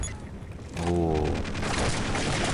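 Distant explosions from the Half-Life MMOD video game roll in as a low, sustained rumbling boom with crackling bursts, rising after a brief lull and staying loud and continuous to the end.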